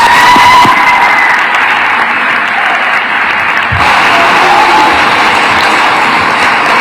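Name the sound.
audience applause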